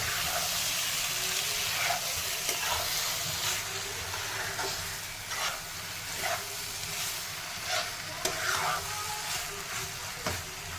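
Paneer is stirred into masala frying in a pan, giving a soft continuous sizzle and hiss with intermittent scraping taps of the spoon against the pan, close and moderately quiet.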